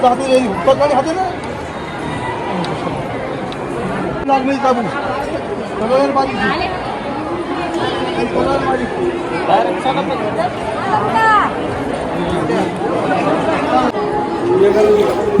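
Dense crowd of visitors chattering at a busy family-deity temple, a steady babble of overlapping voices close by and all around, with occasional louder calls rising above the hubbub throughout.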